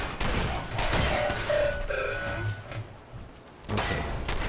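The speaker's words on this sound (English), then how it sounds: "Switching to shotgun." Shotgun blasts in the video game Fallout 4, several sharp booming shots fired in quick succession with a lull before a final burst.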